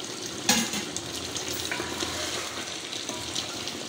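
Ghee sizzles and fries steadily with roasted masala in a pan for a beef biryani, with a brief louder burst of stirring near the start and continuous crackle throughout, no voices.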